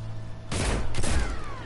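A burst of loud, crackling solar weapon fire in Destiny 2 erupts after a brief quiet, sustained for about a second with a second surge, like a sci-fi energy blast.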